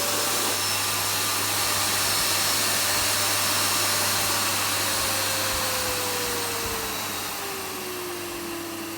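A Miele S7 upright vacuum cleaner runs continuously nearby with a steady, loud whine and airy roar, its pitch sliding slightly downward and the level easing toward the end.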